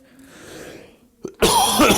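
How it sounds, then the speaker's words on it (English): One person gives a harsh, loud cough, preceded by a short throat-clearing catch, close to the microphone after a moment of quiet. "I did not pause the show to cough"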